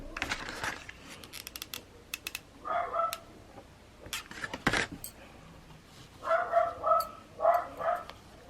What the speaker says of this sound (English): My dog's outside getting some fresh air, so I can hear him barking to his friends.